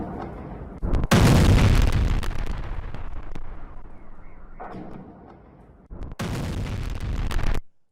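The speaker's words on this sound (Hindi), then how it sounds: "तो ऑयल डिपो में आग लगी और उसके बाद हुआ जबरदस्त धमाका।" A massive explosion at a burning oil depot in Russia booms and roars, followed by a long rumbling wash, then a second burst of blast noise near the end.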